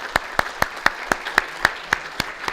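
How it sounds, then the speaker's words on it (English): Applause for a panel of speakers at a community forum on rising crime in Alexandria: a thin, steady run of single claps, evenly spaced about four per second, fairly close and alone. "I think they all deserve a great round of applause"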